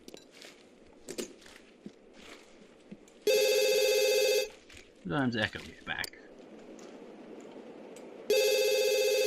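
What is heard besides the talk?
telephone ringing in The Sims 2 video game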